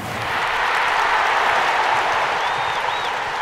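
A crowd at a gymnastics vault event applauds, steady dense clapping filling the hall at a sustained level from start to finish.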